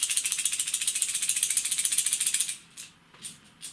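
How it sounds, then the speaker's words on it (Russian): A small hard wobbler lure, a copy of the Rapala Husky Jerk Deep, rattles steadily in rapid shakes, close and fairly loud, then stops and gives a few softer, separate rattles. "сразу слышно, что воблер более шумящий"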